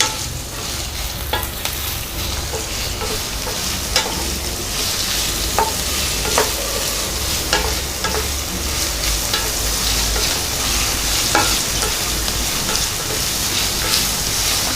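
Onions, green chillies and curry leaves fry in a mutton pan, with a loud, continuous sizzle and repeated scraping stirs close by and no voices.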